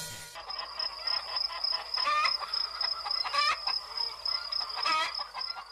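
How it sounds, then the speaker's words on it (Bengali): Several animated cartoon chickens cluck and squawk close by in short, repeated bursts, with a steady high-pitched whine running in the background. "ওই তো কত মুরগি"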